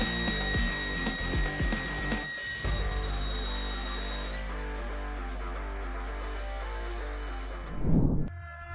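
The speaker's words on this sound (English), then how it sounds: "shaping machines will continue to process the cut wooden parts into the required final sizes" A CNC shaping machine in a woodworking shop trims cut wooden parts to final size, giving a steady loud mechanical drone with rattling, ratchet-like clicks, a brief dip near the third second and a louder surge toward the end.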